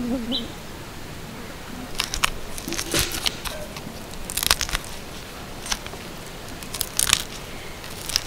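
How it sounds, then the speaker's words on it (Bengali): Roasted eggplant mash being mixed by hand with onion, green chili and mustard oil, giving soft wet squelches and crunchy, crackling squishes in irregular bursts, close up, with no talking. "এবারে পেঁয়াজটাকেও ভালো করে মেখে নিচ্ছি"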